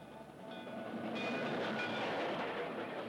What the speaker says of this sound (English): the unmistakable song of a huge steam passenger train provided its counterpoint